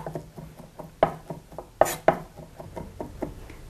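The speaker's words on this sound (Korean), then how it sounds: "좀 굵게 되면 살짝만 다져줄게요." A knife taps steadily on a cutting board mincing chicken breast, with a few sharper, louder chops standing out among the quieter rhythmic strokes.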